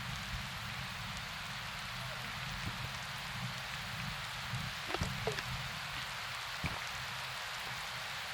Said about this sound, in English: The rain just saved me.